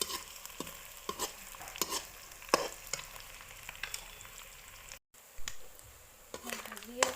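Fish fries in a pan with a steady, crackling sizzle, broken by repeated sharp scrapes and taps of a spatula turning the pieces, all close by, with a brief cut near the end.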